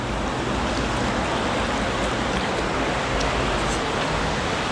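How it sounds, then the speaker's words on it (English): Water rushes through a low tunnel, a continuous loud, broadband roar that fills the space without a break. "There's a lot of rushing water."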